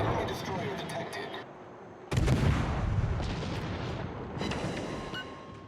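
Naval guns boom in World of Warships as an enemy destroyer is engaged, a dense roar of cannon fire with a heavy salvo near the middle and more shots later, loud and rumbling with faint talk beneath.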